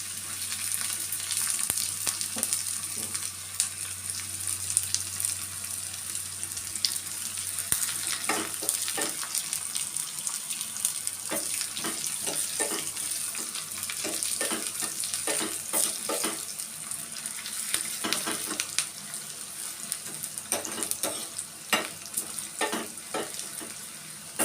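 Onions sizzle in a little oil with panch phoron and dried chilli while an Assamese meal is cooked. The frying hiss is steady and close, broken by scattered clinks and scrapes of stirring, with no talking.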